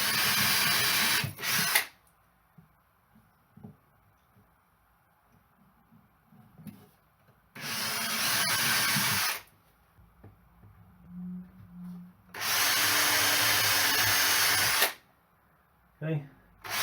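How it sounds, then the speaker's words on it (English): Three separate bursts of a power drill whirring into wood while drilling pilot holes for a vocal booth door frame, each lasting a couple of seconds, with quiet pauses and faint handling noises between them. "I'm going to drill a couple of pilots."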